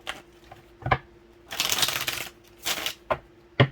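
Tarot cards being shuffled close up, a few riffling bursts and sharp slaps of the deck with brief pauses between, no talking over them.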